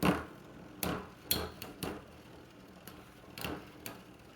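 Spinning Beyblade tops scraping and clacking in a tournament stadium, with a handful of sharp, irregular ticks and knocks over a faint whir, fairly quiet and close.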